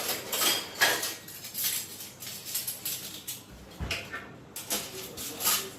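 Washed steel pots, plates and utensils clatter and clink as they are set back in place in a home kitchen, with a steady series of close metallic knocks and scrapes and no talk.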